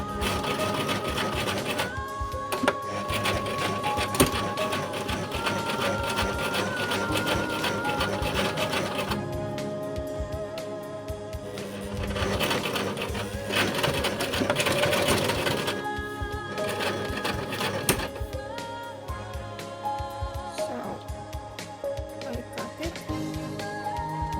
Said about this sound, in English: sewing machine using the zigzag this time, so I choose 4.